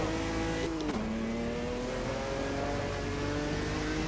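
Stock car engine in a Brazilian stock car racing video game revs steadily at high pitch, with one brief drop as a gear shifts up near the start before the tone climbs again, loud and continuous with no talk.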